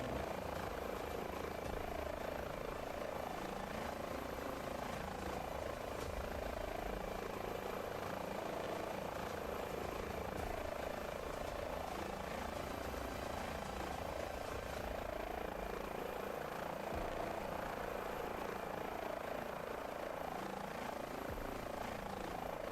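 A simulated Airbus H145 helicopter flies in Microsoft Flight Simulator 2024, its rotor and turbine making a steady, loud, continuous drone throughout with no gaps.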